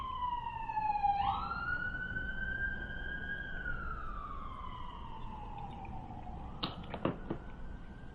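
A police siren wails with rising and falling pitch, then sweeps slowly downward, with a few sharp clicks near the end against steady background noise.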